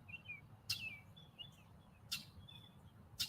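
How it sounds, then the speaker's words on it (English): Short, sharp chirps of a red-winged blackbird ring out a few times over a low background rumble, with thin whistled notes in between, fairly distant and faint. "It is the chirp of the grackle. And pardon me, the red-winged blackbird."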